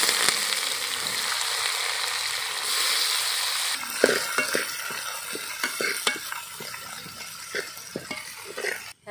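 Onions with cinnamon, fennel, cloves, green chilies and curry leaves sautéing for goat boti fry, a steady close sizzle that gives way to frequent clinking spatula stirs and scrapes against the pan.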